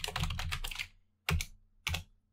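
Python code being typed on a computer keyboard: a quick burst of close keystrokes, followed by two separate single key presses after short pauses, with nobody talking.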